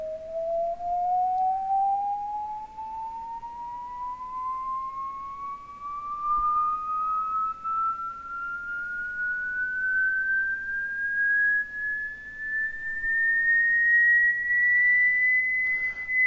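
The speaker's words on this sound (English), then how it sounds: "if you were tuning your radio to my radio's transmitter, you would hear this tone. It's just a single tone." An FM radio transmitter puts out a single pure tone that glides smoothly upward in pitch for about sixteen seconds. It stays loud and clear on its own against a quiet background.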